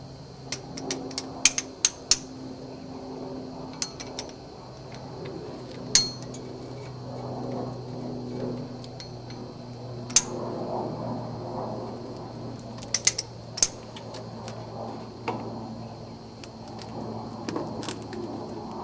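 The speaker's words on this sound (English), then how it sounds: "Take these fasteners out." Fasteners come out of a 1970 Mercedes-Benz 280 SE axle, giving scattered close ratchet clicks and metallic clinks of tools against steel, spread over a quiet workshop background without talk.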